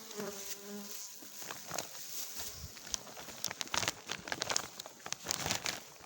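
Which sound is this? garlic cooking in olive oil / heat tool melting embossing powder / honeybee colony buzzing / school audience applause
honeybee colony buzzing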